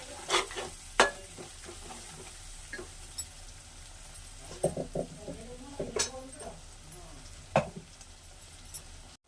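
Curry leaves and a spice mixture frying in oil for a gongura pickle, with a low steady sizzle broken by sharp spoon scrapes and clinks against the pan, several in quick bursts.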